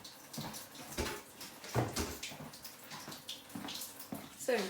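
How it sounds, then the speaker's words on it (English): Water runs steadily from a tap while hands are washed in a kitchen, a soft continuous splashing with light clatters, fairly faint and close. "We wash our hands for 20 seconds."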